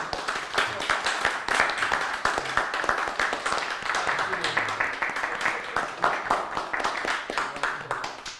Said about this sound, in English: But I want to give you a round of applause.